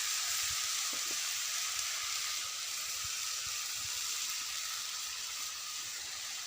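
Semolina and coconut frying in a pan for laddu, with a steady soft sizzle and hiss throughout, fairly faint and uniform, and no talking.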